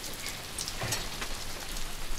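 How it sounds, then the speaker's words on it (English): Steady rain falls outdoors at night, a soft continuous patter with a few heavier drips near the listener, heard alone at moderate level. "It's raining."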